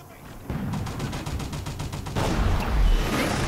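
Rapid gunfire from the Toy Soldiers: Cold War video game, a dense volley of close shots with booming low-end blasts that swell louder near the end, no speech.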